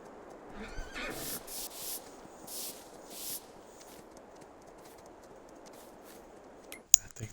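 Horses neigh in the Farming Simulator 22 video game on the Elm Creek map: a faint whinny early on, then soft hissing bursts over a low background hum, ending in a sharp click, with no talking.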